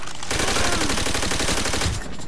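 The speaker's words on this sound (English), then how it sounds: "Darn Japanese won't stop shooting me, which can get quite annoying." Rapid automatic gunfire from a Call of Duty: World at War match against Japanese troops, a dense loud burst of shots lasting about two seconds and cutting off abruptly.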